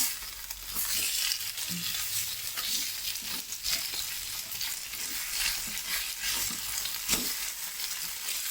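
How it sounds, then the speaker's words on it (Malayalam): Chicken pieces sizzle and crackle loudly in a hot pan while being turned and pressed down with a heavy stone, a dense continuous frying hiss with occasional scraping and soft knocks. "ഇങ്ങനെ ചുറ്റും മറിച്ച് നമ്മളൊന്ന് കല്ലുകൊണ്ട് പ്രസ് ചെയ്ത് വറുത്തെടുക്കണം"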